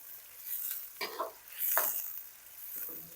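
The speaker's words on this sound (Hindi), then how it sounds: "प्याज को मैं ब्राउन कर लूँगा। साथ साथ चम्मच चलाएंगे ताकि सारे प्याज एक ही तरह से ब्राउन हो।" Sliced onions browning in hot ghee for chicken biryani, a soft sizzle broken by a few spoon scrapes and stirs through the pan, close and fairly quiet with no talking.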